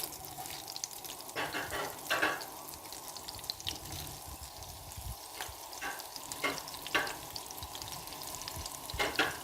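Carrots sautéing in melted fat in a pan make a low, steady sizzle broken by repeated scraping stirs at irregular intervals, close by and quiet, with no voices.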